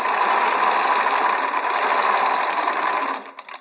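A Qnique sewing machine stitches steadily and close, a loud even whir of rapid needle strokes that runs on alone before slowing and stopping near the end.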